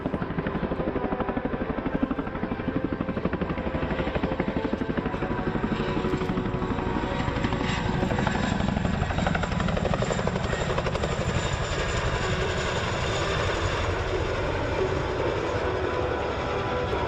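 UH-60 Black Hawk and AH-64 Apache military helicopters fly at a 2017 Rhode Island air show, a loud, steady rotor thrum and engine roar that holds throughout with no talk.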